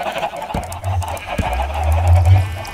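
Chickens cluck in the Minecraft video game, a few short honking bird calls sounding close and loud over a low steady background hum.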